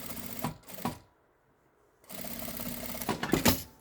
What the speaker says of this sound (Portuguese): Costurinha de meio pé de máquina abaixo do zíper.